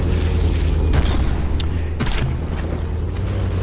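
In the From The Depths naval battle game, a shell detonates with a deep, loud boom, over a dense low rumble of battle noise that continues steadily throughout.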